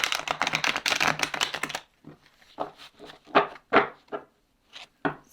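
A deck of tarot cards is recut by hand: a quick riffle of rapid papery flicks for about two seconds, then several separate soft taps and slides as the stacks are squared and set down, close and alone.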